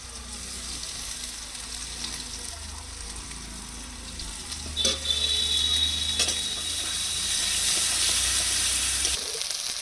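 Chopped onions frying in a pan with ginger, garlic and chili paste for a Bengali fish curry, a steady soft sizzle with occasional stirring scrapes, quiet and close, with no talking.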